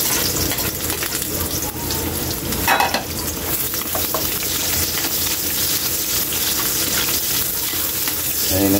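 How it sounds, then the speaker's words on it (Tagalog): Chopped garlic and onion sizzle and crackle steadily in hot oil in a pan, a loud, continuous frying hiss with occasional stirring scrapes throughout, while cooking a chicken feet dish. "Kaili, ilagay na natin yung sibuyas. Okay na itong bawang natin."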